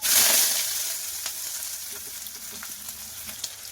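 Chopped onion drops into hot oil with mustard seeds and urad dal, bursting into a loud, close sizzle that quickly settles into a steady, crackling fry with occasional small pops.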